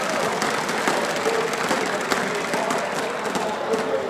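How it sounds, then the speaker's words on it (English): A large crowd at a CS:GO esports event in Katowice keeps up continuous applause and cheering, a dense, steady wash of clapping heard at a distance without a break. "we can hear you guys cheering every kill"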